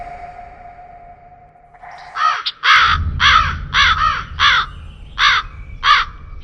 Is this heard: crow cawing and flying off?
yes